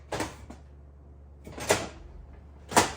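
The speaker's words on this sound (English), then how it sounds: "That's the front door." A front door near a fire alarm panel opens and closes, giving three soft thuds and knocks spaced about a second apart, fairly faint against a quiet room with no talking.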